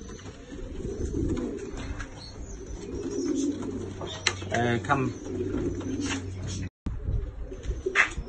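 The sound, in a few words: pigeons cooing in a loft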